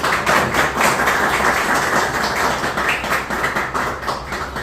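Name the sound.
audience applause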